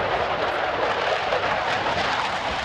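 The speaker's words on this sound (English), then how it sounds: "We have Navy helicopters." Navy helicopters flying overhead during a military training exercise, a steady broadband rotor and engine roar at moderate distance, continuous and unbroken with no voices.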